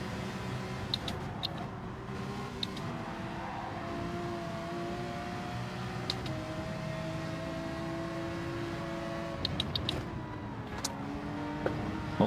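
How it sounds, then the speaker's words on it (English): A Ferrari engine accelerating in Gran Turismo 7 at Road Atlanta: a steady, moderately loud engine drone that rises in pitch through several gear changes, with a few faint clicks over it. "It's funny how the Ferrari just takes off like that."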